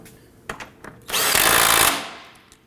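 A power tool tightening a bolt during alternator replacement on a 2008–2011 Ford Focus, with a few clicks and then a loud whirring burst of about a second that winds down.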